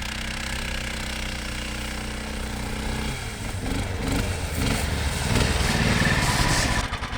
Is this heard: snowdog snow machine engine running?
yes